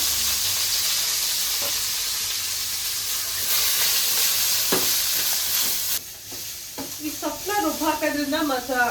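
Fenugreek, coriander and mint leaves sizzle and hiss steadily in a pan while being stirred for a biryani, with a few light scrapes, and a voice speaks over the frying toward the end.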